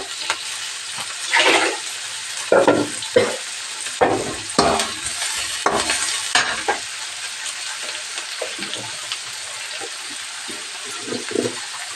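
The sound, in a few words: frying chopped onion and tomato in a pan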